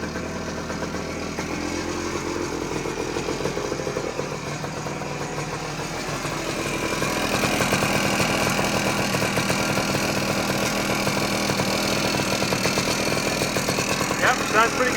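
The two-stroke engine of a Suzuki PE250 motorcycle runs steadily close by, with a buzzing idle that climbs into a louder, busier note partway through.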